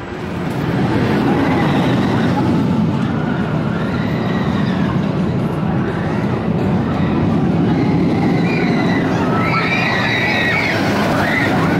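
A roller coaster train, a Vekoma SLC at Six Flags New England, rumbles and rattles loudly and continuously, with rhythmic clacking and squealing wheels throughout.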